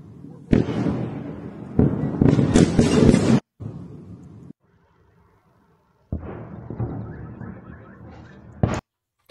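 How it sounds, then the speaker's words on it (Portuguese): Explosions from a bombardment in Belgorod come as loud, sharp blasts and sustained roaring bursts, broken by short gaps of near silence, ending with a final sharp crack. "dá para ouvir com muita clareza as explosões lá"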